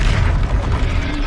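A Confringo blasting spell explodes in the video game Hogwarts Legacy, a loud continuous booming roar filling the whole moment without any talking over it.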